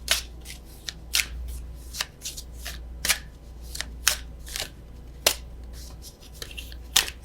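Oracle cards being shuffled by hand, a run of crisp, irregular riffling flutters and soft slaps that come up close and fairly quiet over a low steady hum, with no talking.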